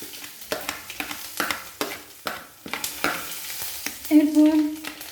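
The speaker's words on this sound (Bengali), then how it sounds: "2টো তেজপাতা গরম তেলের মধ্যে দিয়ে দিলাম। এরপর গোটা জিরে হাফ চামচ" Bay leaves and whole cumin seeds crackle and sizzle in hot oil in a pan, with repeated scraping stirs and clatters punctuating the frying, loud and close.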